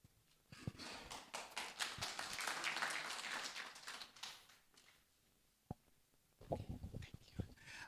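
A small audience at a memorial gathering for Rasna Warah breaks into applause, a soft swell of clapping that builds, lingers for a few seconds and thins out, followed by a few scattered faint taps and claps.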